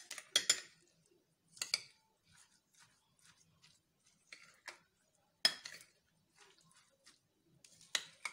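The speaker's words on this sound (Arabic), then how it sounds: "نقلبها كويس" Coleslaw salad is stirred in a bowl, giving irregular bursts of clinking and scraping with quiet pauses between strokes.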